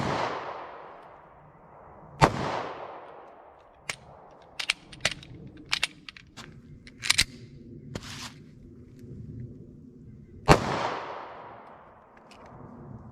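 A Taurus G2C .40 pistol fires several sharp, loud shots with long echoing tails, the first near the start and the last near the end, with a cluster of smaller clicks and knocks in between.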